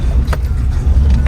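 A Tata Nexon AMT car crawls over rough off-road ground on a mountain track, giving a low, steady engine and road rumble with faint knocks from the uneven surface.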